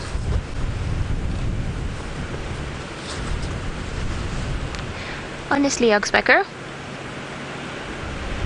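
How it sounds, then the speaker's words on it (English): Steady broadband wind roar rumbles throughout during an afternoon safari drive, with a short burst of speech partway through. "on this very windy yet beautiful afternoon"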